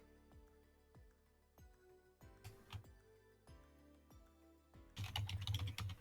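Typing on a computer keyboard, quiet close key clicks tapping in irregular bursts with a quicker flurry of keystrokes near the end.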